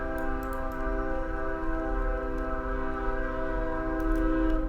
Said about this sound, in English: And we get to wait for the train horns.